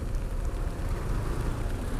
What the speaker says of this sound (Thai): เพราะว่าฝนมันตก